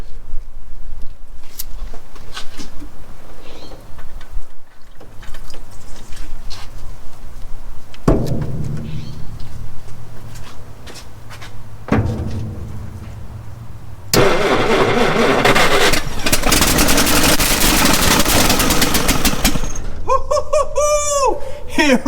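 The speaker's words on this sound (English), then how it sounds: "That thing fired right up." Jeep J2000 engine cranking and then firing up, first with uneven sputters and cranking bursts, then catching into a loud steady run close by, with brief clatter near the end.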